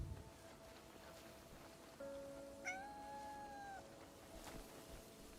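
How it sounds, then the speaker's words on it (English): A white cat in the Crimson Desert video game gives a single drawn-out meow with a rising-then-falling pitch, fairly clear over a quiet ambient game background, with no talking. "Oh, you're a white kitty cat."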